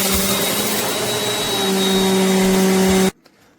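A Bissell CleanView compact upright vacuum cleaner running loud and steady with a whining hum and strong airy roar, then cutting off abruptly near the end, leaving near silence.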